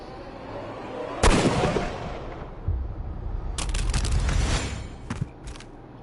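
Gunfire in the Sherlock Holmes Crimes & Punishments video game: a loud, sharp shot rings out near the start, followed by rumbling and a later cluster of sharp bursts, with no talk.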